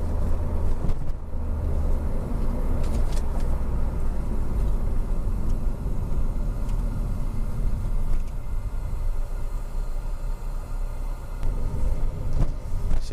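Car driving through Istanbul city traffic, a steady low road rumble and engine drone from inside the vehicle, with occasional passing traffic and no talk.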